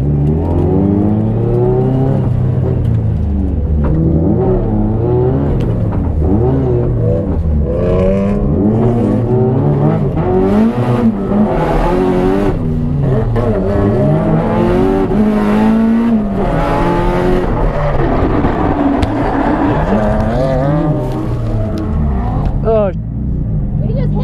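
A drift car on a practice lap, its engine revving hard and continuously, pitch sweeping up and down as the throttle rises and falls, loud and close throughout.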